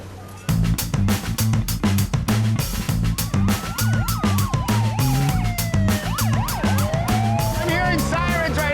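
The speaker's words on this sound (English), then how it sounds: "I'm hearing sirens right now." Police sirens escort cement trucks to a home rebuild site. Rising and falling wails sweep in partway through, layered over loud, rhythmic background music.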